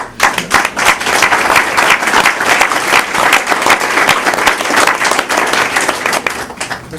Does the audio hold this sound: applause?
yes